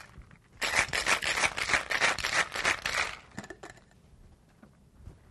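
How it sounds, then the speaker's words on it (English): A Triad cocktail with amaretto is shaken hard in a cocktail shaker, giving about two and a half seconds of loud, rapid rattling of ice against metal, which then stops and leaves a few faint clinks and handling sounds. "I'm going to go ahead and shake that up."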